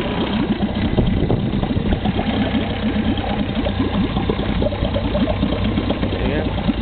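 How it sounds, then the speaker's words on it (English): A Mariner 3.3hp outboard motor idles steadily just after being started following a winter unused, giving a continuous close, loud putter with a rapid regular ticking rhythm, with a voice talking over it. "It hasn't been running all winter, so I've just started it."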